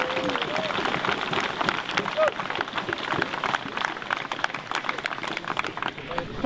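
Crowd applause at a Viking combat competition: dense, steady clapping fills the whole stretch at close range, with voices mixed in underneath.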